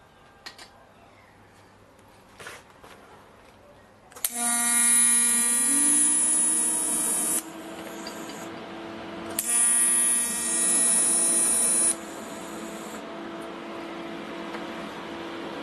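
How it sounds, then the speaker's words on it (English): TIG welder striking a tack weld with a tungsten electrode, two bursts of loud steady high-pitched arc buzz with strong harmonic hum, each lasting a few seconds, separated by a quieter pause. "I can make a tack there now. I got my tungsten and won't do any damage."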